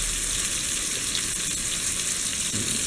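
Fish frying in hot oil, a dense, continuous close sizzle that holds steady and loud, with faint stirring underneath and no talk.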